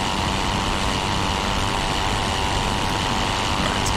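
Pfalz E.II aircraft engine in the flight game Rise of Flight, a continuous droning propeller engine note held at steady revs, close and loud with no talk.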